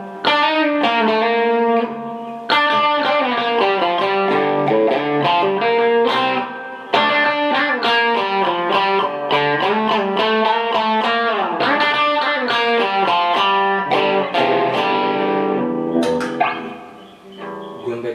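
A Paul Reed Smith 245 SE electric guitar, with compressor, sweep drive and a little reverb, plays a melodic line of sustained notes and chords, loud and alone, fading at the end.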